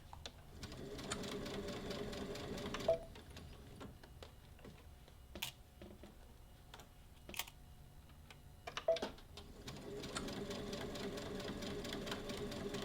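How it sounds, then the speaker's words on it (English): A sewing machine stitches fabric in steady rapid bursts, pausing in the middle with a few clicks and knocks before starting up again. "put it on my sewing machine and go ahead and work my way around sewing it"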